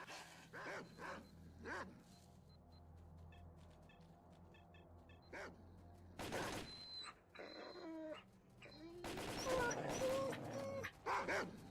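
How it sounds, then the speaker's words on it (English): Dogs bark in the survival video game Once Human, several sharp barks spread across the stretch over a faint game background with occasional other creature sounds. "Oh, hello dogs."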